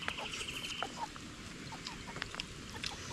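Chickens cluck and chirp in short bursts against a steady outdoor background, with one higher sustained call near the start.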